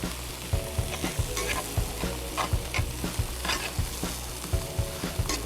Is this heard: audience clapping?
no